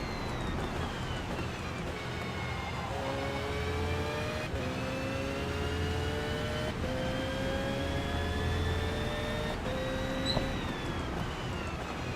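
A Porsche engine in the Forza Motorsport racing game revs hard and climbs steadily in pitch, with several gear changes dropping it back before it rises again. One continuous, loud, close whine with no talking.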